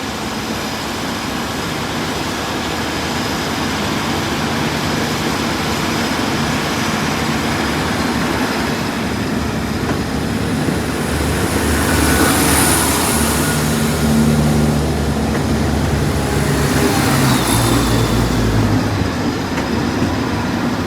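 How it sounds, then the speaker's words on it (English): A Northern train bound for Scarborough rumbles steadily through Sheffield station, a loud continuous engine drone with rolling wheel noise and brief brighter squeals, no voices heard. "Next up, the 11:57 Northern train service to Scarborough"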